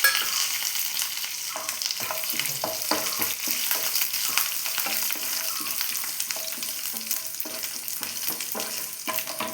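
Dried red chillies broken into pieces and curry leaves frying with onion in hot oil while tempering buttermilk curry, a steady loud sizzle with repeated scraping stirs of a spoon throughout.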